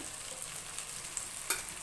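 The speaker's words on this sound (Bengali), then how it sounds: "আমি ভাজতে থাকবো যতক্ষণ না পটলগুলো ভালো সিদ্ধ না হয়" Pointed gourd pieces fry in a pan over medium heat with a soft, steady sizzle, broken by one brief utensil clink.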